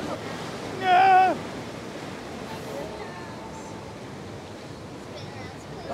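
Rushing, splashing water from a rapids water ride at Disney's Animal Kingdom, Walt Disney World, Florida, forms a steady broad wash throughout, with a brief high-pitched tone rising over it near the start.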